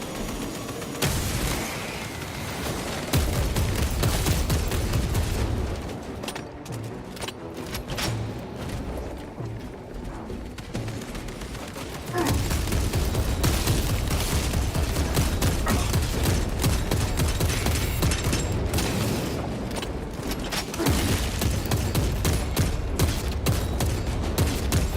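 Video game gunfire in a firefight with snipers, dense bursts of shots and booming impacts in waves, loud and close, dropping briefly into quieter stretches before the barrage resumes.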